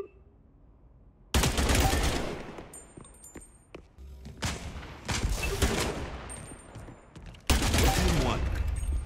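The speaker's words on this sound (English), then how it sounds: "I did nothing but shoot people in the back for like 10 damage" Bursts of gunfire from a free-to-play 3v3 shooter video game come in long, loud, dense volleys with short lulls between them, mixed with game effects and light talking.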